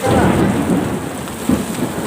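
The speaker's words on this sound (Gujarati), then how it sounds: "કરા ડાયરેક્ટ કરા પડવા માંડ્યા." Heavy hail and rain pelting down steadily in a village near Radhanpur, Gujarat, a dense roar of impacts with low thunder rumbling underneath.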